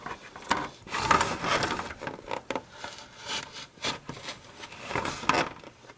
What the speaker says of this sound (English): Now we're going to go through and cut off this entire edge here of our tray